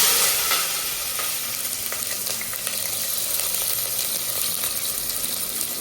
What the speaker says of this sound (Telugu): ఇప్పుడు ఉల్లిగడ్డలు పచ్చిమిర్చి వేసుకోవాలి.